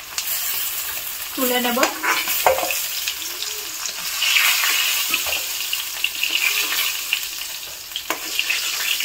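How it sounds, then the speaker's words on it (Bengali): Fish sizzles steadily as it fries in a pan at home, with occasional stirring and scraping of pieces being lifted out, and a brief spoken remark over the hiss. "মাছ ভাজা হয়ে গেছে,"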